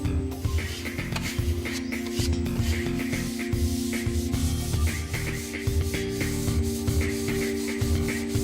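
Drywall putty being sanded smooth over filled gaps and dents in a wall: steady, continuous scratchy rubbing strokes in a close, even rhythm, alone with no talk.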